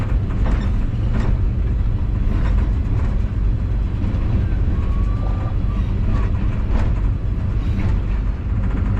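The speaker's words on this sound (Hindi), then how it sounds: "सर सैयद एक्सप्रेस अप्रोच बना रही है हाफजाबाद रेलवे स्टेशन पे" The Sir Syed Express approaches Hafizabad railway station in a continuous loud, low rumble of wheels and engine, heard steadily throughout with no voices.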